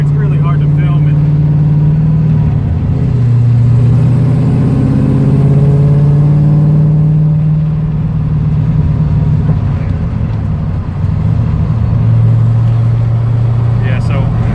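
A car accelerating and shifting up into fourth gear, its engine humming steadily from inside the cabin, the pitch stepping down at the shift around three seconds and again near eleven, with road rumble beneath.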